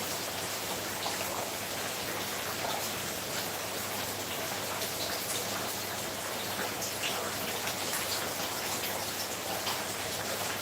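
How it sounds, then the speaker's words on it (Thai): Heavy rain falling in Lampang, Thailand, a steady, even wash of dense hiss and patter that holds unbroken for about ten seconds, fairly soft and with no voices. "ฟังเสียงฝนตกแล้วมันชอบดีนะ"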